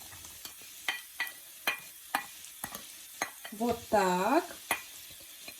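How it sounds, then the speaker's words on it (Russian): Soft sizzling of onion and carrot frying in sunflower oil in a pan, with scattered stirring clinks and scrapes, plus a brief spoken phrase near the middle. "На разогретую сковороду с растительным маслом, с подсолнечным маслом я отправляю лук и морковку."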